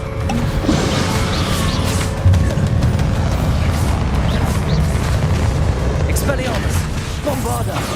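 Bombarda blasting spell in the Hogwarts Legacy video game, a continuous roar of rumbling blasts and crashing debris, loud and dense, with a heavier boom partway through and voices shouting over the din.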